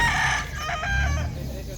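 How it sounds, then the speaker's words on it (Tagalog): A breeder rooster crows once among chickens, a close, loud, drawn-out call over a low background of clucking and farmyard noise, with no voices. "So yung mga manok dito puro breeder."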